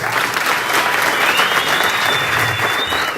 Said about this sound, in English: let's clap hands for them